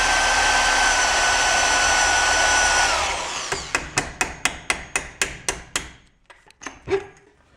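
Hammer strikes driving a rubber suspension bump stop off a Koni Yellow shock for a 2006-2011 Honda Civic Si, a dozen sharp metallic blows in a steady rhythm, close by, after a loud blowing hiss cuts off.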